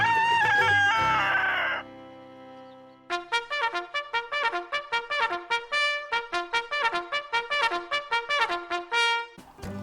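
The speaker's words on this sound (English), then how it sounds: "chickens do best, scratching for bugs and eating vegetable scraps" Farm chickens: a rooster crows at first, then a hen clucks quickly and evenly in a long run of bright, close calls with short gaps between them.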